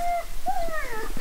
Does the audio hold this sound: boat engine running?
no